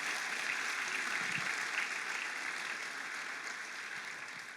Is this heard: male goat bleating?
no